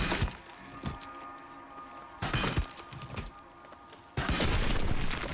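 Layla shoots at a wall in the Baldur's Gate 3 video game, setting off several sharp impact cracks and crumbling, splintering bursts, with the loudest in a sustained final crash, in a near, otherwise quiet scene.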